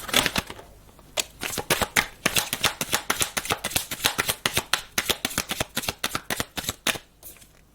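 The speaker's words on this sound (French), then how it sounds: "Tu peux me retirer des 3 cartes, Michael?" Playing cards shuffled and drawn during a card reading, a dense run of crisp riffling snaps and slaps close to the microphone, continuous with no talk.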